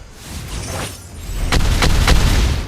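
A turret is destroyed in the mobile game Mobile Legends, giving booming explosion hits, two or three punchy blasts in quick succession near the end, loud and close over game background noise.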